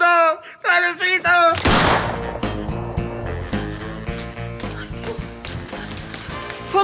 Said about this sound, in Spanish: ¿Fue otro disparo? Me temo que sí